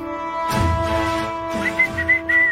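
Short whistled notes from a person, several brief tones in a row, sound over the music and ambience of a Tamil television drama scene, moderately loud and without talk.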